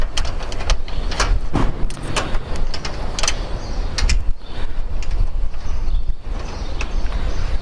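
A screw is driven into the aluminium frame of a solar panel, giving loud, close, uneven metallic clicks and knocks over constant rumbling outdoor noise, with clatter recurring every second or so.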